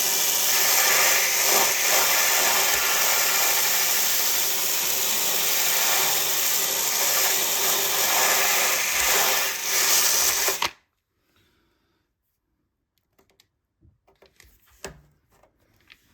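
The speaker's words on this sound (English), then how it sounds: "I've got some 80 grits on a drill attachment." A drill with an 80-grit sanding attachment grinds steadily and loudly on rusty metal of a Mazda MX-5 NC for about ten seconds, then cuts off, leaving near silence with a few faint knocks.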